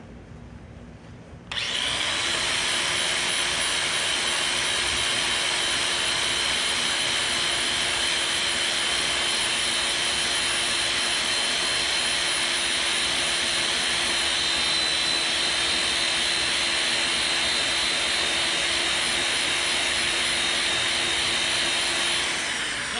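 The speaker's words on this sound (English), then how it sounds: "I think I'm going to hit this with the wheel until it's all that polished color." A buffing wheel polishes a metal clutch part from a 1974 W200 with a 383 engine. After a short quiet start it spins up to a loud, steady whine and roar that holds unbroken to the end.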